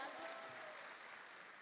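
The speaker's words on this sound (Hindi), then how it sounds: "एक मर्तबा भरपूर तालियां हो जाएं" Applause from the audience at an Urdu mushaira poetry gathering in Dubai, a steady, dense wash of clapping that stays fairly even for under two seconds with no talking over it.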